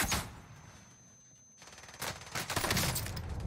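Gunfire in Call of Duty Warzone Pacific on Rebirth Island: a short burst opens, then a quiet gap, then loud, dense rapid shots crackle without pause to the end.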